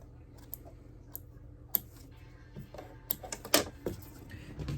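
Scissors trimming fabric pieces for quilt piecing, a scattered series of sharp close snips and small clicks that grows busier toward the end, with no talking.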